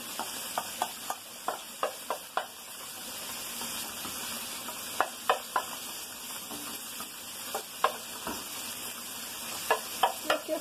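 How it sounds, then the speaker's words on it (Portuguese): Steady sizzle of chicken frying in oil with scattered crackles and pops throughout, no voices, close and moderately loud. "Vamos fritar o nosso frango."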